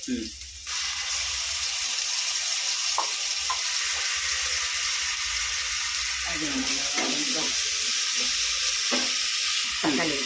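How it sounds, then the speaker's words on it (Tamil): Ginger garlic paste frying in a pan for mutton curry, a continuous hissing sizzle with occasional stirring scrapes and clinks. "இஞ்சி பூண்டு பேஸ்ட்டு போடுறேன்"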